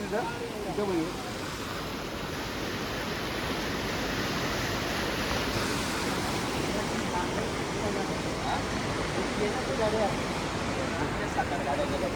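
A continuous wash of rushing water from the flooded Bharangi river, even and fairly loud throughout, with a thin steady tone riding above it for a few seconds early on.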